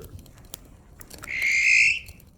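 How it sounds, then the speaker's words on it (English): At night in Canadian woods, a bird thought to be an owl perched directly overhead gives a single odd, high, wavering call lasting under a second, rising out of quiet forest ambience with faint scattered clicks. "We thought maybe it was an owl perched directly above us, but it made this really odd sound."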